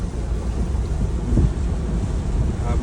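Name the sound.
heavy rain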